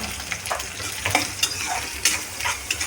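A potato and pea curry in a pan with curry leaves, cumin, mustard seeds, chilli and onion, sizzling steadily up close while a spoon scrapes and stirs in irregular knocks.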